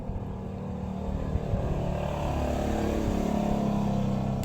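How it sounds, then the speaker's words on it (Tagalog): A loud motorcycle engine runs steadily close by, its low rumble swelling slightly as it revs, with no talk over it. "Anak, dako kay tingog ang motor anak."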